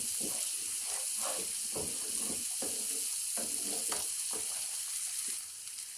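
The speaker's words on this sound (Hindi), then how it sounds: "हल्का सा इसको हम भूनेंगे, लाइट ब्राउन हो जाए।" Garlic lightly frying in a pan, a steady sizzle with repeated scraping stirs at an irregular rhythm, close and fairly loud, settling quieter near the end.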